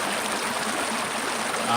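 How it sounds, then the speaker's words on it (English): Water flows steadily by the shore on an outdoor walk, a continuous loud broadband rush of stream-like trickling with no break. "we're by the water, so we get some nice water action"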